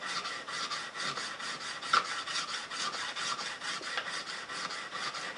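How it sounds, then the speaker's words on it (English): A DeWalt steel chisel is rubbed back and forth on a sharpening stone, with a steady, close, rasping scrape running continuously at moderate level. "Touch it on the stone, putting a little more pressure at the tip, a good bit more pressure"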